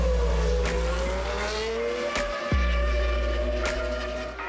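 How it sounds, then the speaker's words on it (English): A Formula One race car screams past at high revs, its engine pitch sliding down as it goes by, with a few sharp transient bursts and a steady low rumble under the whine. "Formula One cars are engineered for speed."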